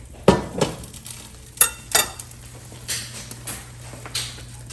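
Onions drop into hot oil in a pan and begin to sizzle, with a few sharp clatters of stirring and utensil contact over a steady low frying hiss, close and fairly loud.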